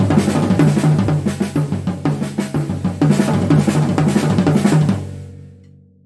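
A drum kit plays a steady groove, one measure at a slow pace, then the next at double time, with crisp, close, loud hits before the last strokes ring out and fade to silence.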